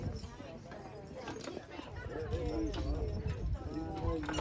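A young work horse, roughly two to three years old, at a driving clinic clops its hooves steadily at a moderate distance while people talk over the sound.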